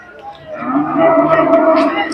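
A local desi cow at a cattle market gives a long, low moo lasting a couple of seconds, fairly close, with faint background noise around it.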